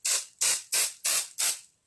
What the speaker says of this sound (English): Again, just spray a bit of snow,